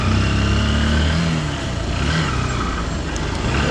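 A nearby motorcycle engine revs and pulls away as the rider sets off in town, a steady loud drone with shifting pitch that holds for a few seconds.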